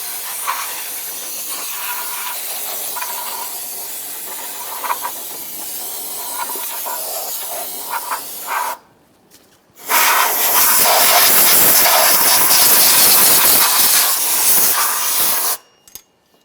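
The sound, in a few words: compressed air and parts cleaner spraying engine pulleys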